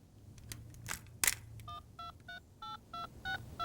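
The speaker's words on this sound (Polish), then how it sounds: "Zadzwonię do dziewczyn i powiem mimo wszystkim." A telephone number is dialed in a cartoon scene: a series of about eight clear, evenly spaced touch-tone beeps, close and distinct, preceded by a few soft clicks and a brief rustle, with no talking.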